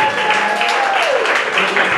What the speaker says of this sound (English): Give these guys applause